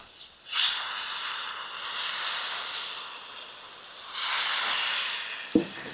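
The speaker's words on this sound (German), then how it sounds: "Und dann löschen wir es ab mit dem Bier." Onions sizzle hard in a hot pan as beer is poured in to deglaze them for beer onions, giving two surges of loud, hissing steam with a quieter steady sizzle between them.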